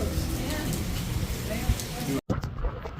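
Rain falls on a street in Cozumel, Mexico, a continuous close hiss of drops with scattered spatters, briefly cut by a near-silent gap before resuming.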